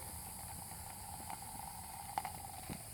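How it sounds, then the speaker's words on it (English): Chicken stir-frying with oil and soy sauce in a pan, a steady faint sizzling hiss with a few small pops and crackles, no voices. "Saute it a little bit."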